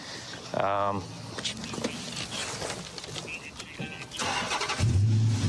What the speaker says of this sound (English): I'm gonna see if this key fob starts this Charger